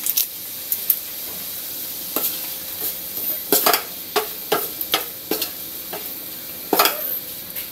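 Bitter gourd (ampalaya) fries in a pan with a steady background sizzle, broken by repeated sharp scraping and stirring clatters of a utensil against the pan. No one speaks.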